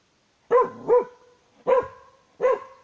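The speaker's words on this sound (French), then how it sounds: "J'ai un chien de garde." A guard dog barks four times, loud and close: a quick pair, then two single barks spaced apart, with nothing else heard during an outdoor forest morning exercise session.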